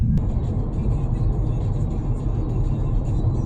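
A rental car drives on a UK road, keeping to the opposite side: a steady low rumble of engine and road noise heard from inside, even and continuous, with no talking.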